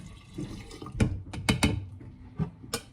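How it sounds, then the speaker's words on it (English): A cup of water is poured into a bowl of active sourdough starter for English muffin dough, with a few distinct splashes and drips after quiet pauses. "I'm going to add in my 1 cup of water"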